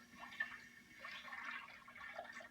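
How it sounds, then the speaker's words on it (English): Rice being swished and rinsed in a bowl of water, soft liquid sloshing and trickling close by, moderately quiet and steady without talk. "I'm going to wash it again"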